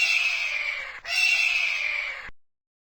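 An eagle's call: two long, shrill screeching cries, one right after the other, loud and close with no talking.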